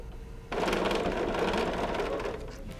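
A sewing machine stitches lace binding with a scalloped design onto quilting fabric, starting abruptly after a short pause and running in one loud, steady burst for about two seconds before tapering off.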